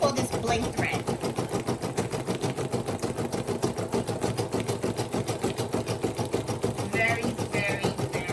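A Brother SE1900 sewing machine stitches with metallic thread in a fast, steady mechanical chatter that runs without pause from start to finish at close range.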